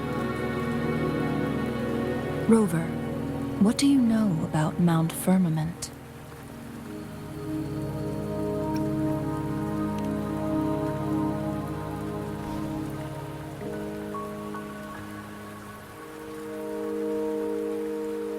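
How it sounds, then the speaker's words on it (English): Rain falls steadily in the video game Wuthering Waves, a soft constant patter beneath a sustained musical score, with characters speaking over it. "Don't worry, the rain won't last much longer."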